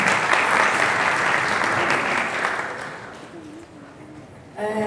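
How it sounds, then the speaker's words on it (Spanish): Audience applause at a food-processing and health lecture, loud sustained clapping from a crowd that gradually thins and fades, with a voice starting to speak near the end. "Les vamos a dar un fuerte aplauso."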